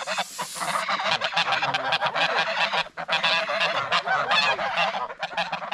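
Geese honking loudly and repeatedly in a dense, overlapping chorus, close by and continuous throughout, with no talking.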